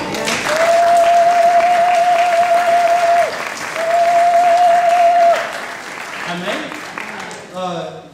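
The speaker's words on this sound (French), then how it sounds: "est-ce qu'on peut acclamer nos enfants?" A church congregation bursts into loud, sustained applause and cheering for children who passed their exams, a steady wall of clapping with a voice ringing out over it before the noise fades.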